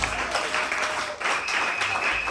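Congregation applauding during a French church service, a steady wash of clapping lasting a couple of seconds, moderately loud with a faint voice underneath.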